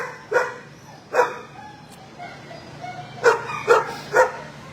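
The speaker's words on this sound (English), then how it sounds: "So this is Jessie, one of the prettiest dogs in the shelter" A dog barks in an animal shelter, two sharp barks followed after a pause by three more in quick succession, fairly close against a low background hum.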